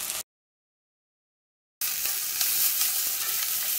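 Onions sautéing in a pan while making an okra curry, with a steady close sizzle and stirring that cuts out briefly near the start and then returns at full strength.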